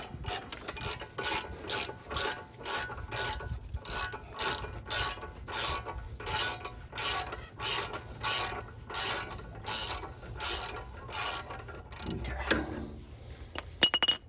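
A ratchet loosening the upper front brake caliper bolt on a 2015 Honda Crosstour, a steady series of about twenty rhythmic clicking strokes up close, ending with a metallic clink, with no talking.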